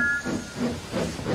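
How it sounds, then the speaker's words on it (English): A steam locomotive hisses out steam as it puffs away, heard as a few rhythmic soft chuffs with a breathy hiss, fairly close and with no talk. "And he huffed away to fetch his coaches."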